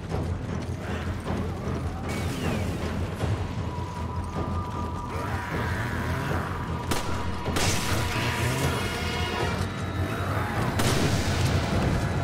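Tank combat and gunfire in the video game Resident Evil 5, mechanical clanking and grinding with sharp bursts, crashes and booming impacts layered over a continuous low rumble, busy and fairly loud throughout.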